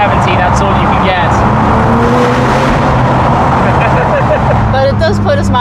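A new Aston Martin Vanquish drives through a tunnel, its engine roaring loud and continuous as the sound echoes off the walls, with people talking inside the car over the noise.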